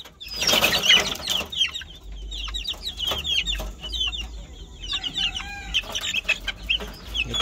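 Chickens cluck and chirp busily up close, with small chick peeps mixed in over a low background rumble; no talking.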